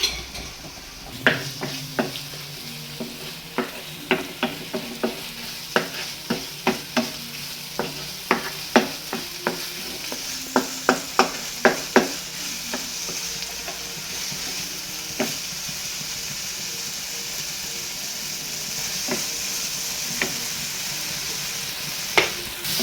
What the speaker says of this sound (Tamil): ஒரு 3 மினிட்ஸ் அப்படியே நல்லா குக் பண்ணுங்கள். ஸ்லோ ஃபயரில் அந்த ஆயிலெலாம் மேலே வரும்.